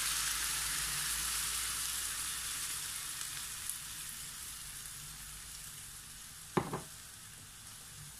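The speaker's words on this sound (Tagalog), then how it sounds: "ilalagay na rin natin ang ating sauce na ating ginawa kanina" Chicken thighs frying in a pan for a Japanese-style dish, with a homemade sauce added: a steady, fairly quiet sizzle runs throughout, broken near the end by a brief louder clatter.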